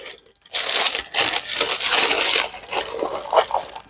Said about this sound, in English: Sorry about the crinkly noise.